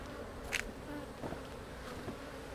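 Low, steady buzzing from a mass of honeybees in an open hive during an inspection, with a few brief louder passes close by, no voices.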